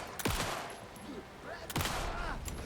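Gunfire in the video game Alan Wake II comes as two sharp bursts of shots, one early and one past the midpoint, with quieter game ambience between them at a modest level.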